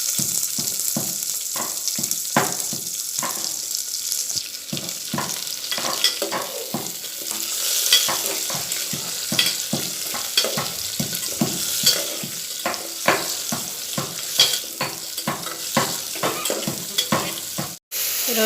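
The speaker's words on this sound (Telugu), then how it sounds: "కరివేపాకు, ఆనియన్స్ వేసుకుని మనం ఫ్రై చేసుకోవాలి" Onions and curry leaves sizzle in hot oil in a pan for tomato rice, with a spoon scraping and stirring in a steady, repeated rhythm throughout, close and fairly loud.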